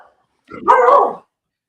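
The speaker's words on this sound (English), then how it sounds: "Sorry, that's my dog." A single dog bark, a short loud burst of yelps lasting about half a second, rings out close by in an otherwise quiet room.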